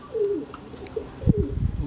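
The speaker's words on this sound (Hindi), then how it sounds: "बड़ा हसीन कबूतर है।" A pigeon coos softly in a loft among club birds, giving a few low rolling coos close by, with light rustling and fluttering toward the end.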